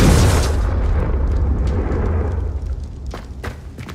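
Confringo spell blast from Hogwarts Legacy: a loud booming explosion at the very start that rolls off into a long fading rumble, followed by a few faint sharp crackles.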